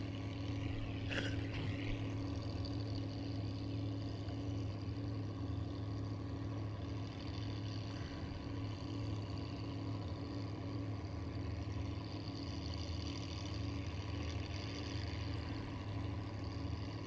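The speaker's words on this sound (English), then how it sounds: "chugging noise of the engine." A sprint boat at a race idles with a steady, low, growly chugging engine throb that carries on evenly throughout, moderately close, with no talk.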